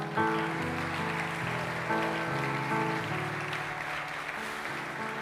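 A church congregation claps and applauds over sustained music, a dense, even patter of hands lasting a few seconds at moderate, somewhat distant volume.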